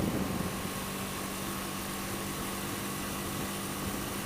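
A 1980 Yamaha XS400 Special II motorcycle engine idles steadily close by, a constant low rumble with a faint hum over it and no pauses.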